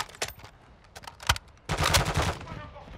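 Video game gunfire: scattered single shots, then a dense rapid burst of automatic fire in the final second and a half, close and loud, with a voice briefly heard near the start.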